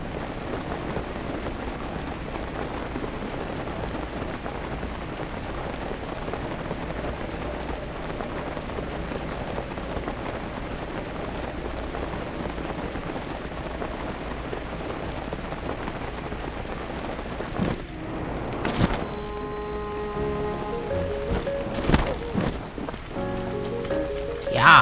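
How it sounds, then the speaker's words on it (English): Steady, soft rain in The Legend of Zelda: Breath of the Wild hisses evenly throughout, joined near the end by brief tonal chimes and clatter. "No, it's just rain."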